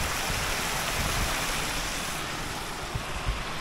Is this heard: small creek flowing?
yes